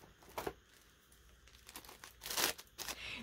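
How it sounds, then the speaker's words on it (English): Plastic bags from a thrift store and estate sale haul being cut open, giving faint crinkling and tearing rustles in short bursts, louder near the end, with no talking. "So I'm cutting the bags."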